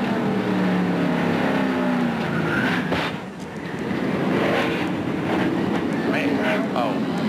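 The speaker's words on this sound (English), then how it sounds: "A very noisy and a very violent wreck." Race cars in a violent wreck at the 1997 Primestar 500, a dense roar of engines and crunching noise with a dip midway, with crowd noise and a voice talking over it.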